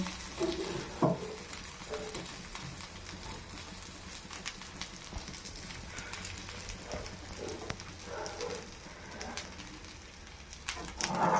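Kulekhara greens frying in a pan over a medium-high gas flame: soft, continuous sizzling and scattered crackling pops, faint and steady throughout.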